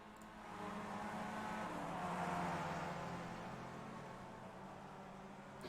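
Race cars in the iRacing simulator at Phoenix International Raceway drone at a distance, their engine whine swelling as they pass and then fading, a faint, smooth roar with no speech.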